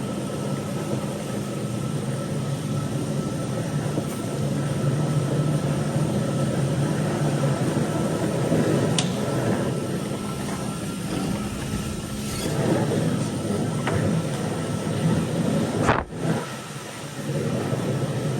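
A Ryobi battery-powered sweeper runs steadily outdoors over leaves and dust, giving a continuous motor whir and brush rumble that holds level throughout, with a brief dip near the end.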